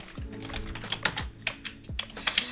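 Computer keyboard typing in a Blender 3D text edit session: a quick run of distinct clicky keystrokes at an uneven pace, close and fairly clear, with no talking.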